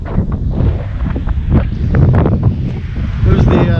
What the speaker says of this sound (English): It's a bit windy, as you guys can hear.